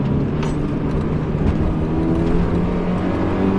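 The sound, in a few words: Mazda MX-5 NA Miata 4-cylinder engine revving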